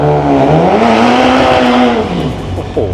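A loud European car engine revs hard at an underground drag racing meet, its pitch climbing and falling in a sweeping rise, close by and dominating the sound.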